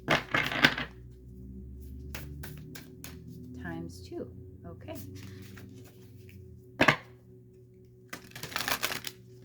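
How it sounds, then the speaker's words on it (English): Moonology Manifestation Oracle cards being shuffled, heard as close, soft rustling bursts at the start, around the middle and near the end, with a quiet voice speaking briefly between them. "from the Moonology Manifestation Oracle deck, I'm actually being asked to shuffle those"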